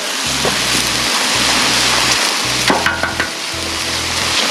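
Eggs sizzle loudly on a Blackstone griddle outdoors in the mountains, a dense close crackle over a pulsing low rumble, with a few sharp taps and clicks near the end.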